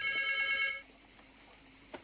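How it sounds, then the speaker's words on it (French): An old-style telephone bell rings indoors in a home, a bright metallic trill lasting under a second before cutting off into quiet room tone. "j'entends pas que le téléphone sonne"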